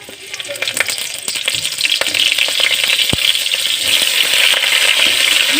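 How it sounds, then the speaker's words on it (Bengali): Cauliflower pieces fry in a little oil for a vegetarian mushroom khichuri, making a continuous close sizzle with occasional clinks and stirring scrapes and no talk. "খুবই অল্প তেলে বন্ধুরা ভাজবো"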